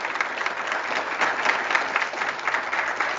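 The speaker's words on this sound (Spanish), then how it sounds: "Un aplauso para Cristian, por favor." Steady applause from an audience at a religious talk, dense clapping that stays loud and even throughout without a break.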